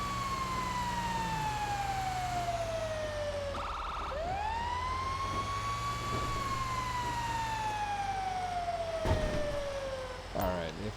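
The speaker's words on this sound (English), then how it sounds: "they've heard the siren enough" A police siren in GTA V Online wails in long rising and falling sweeps, loud and steady, with a brief burst of yelp partway through.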